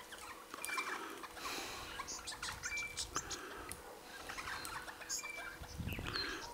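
Magpies call outdoors at Loch Sport, giving quiet, scattered chattering and chirps over a soft background hiss.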